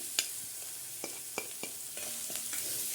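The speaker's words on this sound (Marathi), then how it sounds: "कांदा लाल परतला परतून घ्यायचा त्याच्यामध्ये थोडंसं मीठ टाकायचं" Onions sautéing with salt in a pan, a quiet steady sizzle broken by several light spatula taps and scrapes, close but soft, with no talking.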